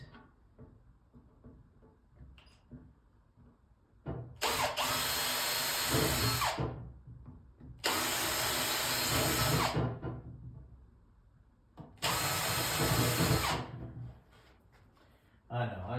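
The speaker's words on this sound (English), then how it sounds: "we're going to put a few little holes in" A power drill bores holes into a slightly warped shelf board in three loud, high-pitched bursts of about two seconds each, separated by quieter handling sounds and brief talk.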